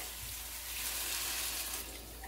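Gandules broth and water pour into a pot while making arroz con gandules, a steady soft liquid wash running throughout at low level with no talk.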